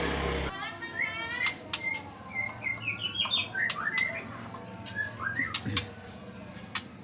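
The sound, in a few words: murai (magpie robin) bird chirping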